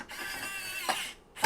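Screw being driven down into a Dell Optiplex 3000 fan chassis, a short, close mechanical whir with a small click near the end and another brief burst starting just after.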